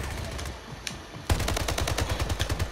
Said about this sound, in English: I shot him in his leg. He's dead.